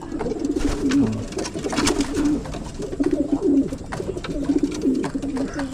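Pigeons in a loft, including a pair about to mate, coo in repeated soft throaty phrases close by, along with faint rustling and a little background activity.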